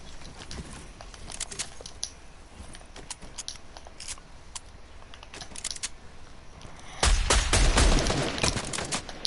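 Gunfire in a Fortnite fight, with scattered sharp shots and clicks through the first seconds and a heavier, louder burst of rapid firing near the end.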